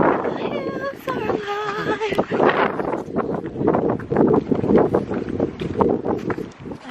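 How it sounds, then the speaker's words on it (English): Gusty wind buffets the microphone in loud, uneven rushes, with a few brief tonal squeaks early on and no clear speech. "So windy."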